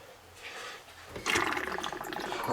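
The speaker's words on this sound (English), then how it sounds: "Let's open this hot water too." Hot water tap turned on at a household sink, with a soft hiss at first, then a louder steady stream of running water splashing for about a second and a half, with no voices.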